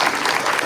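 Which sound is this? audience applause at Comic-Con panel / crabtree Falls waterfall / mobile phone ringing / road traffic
audience applause at Comic-Con panel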